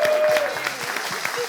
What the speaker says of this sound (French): Donc, on va applaudir déjà les 2 équipes là.